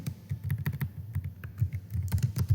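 Rapid, uneven clicking of a computer keyboard as C++ code for a simple calculator program is typed, crisp close keystrokes in bursts with brief pauses.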